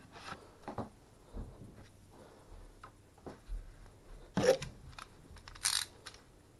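Scissors snip through a piece of aquarium airline tubing, a few quiet, close clicks and crunchy cuts spaced irregularly, with a couple of sharper snips near the end.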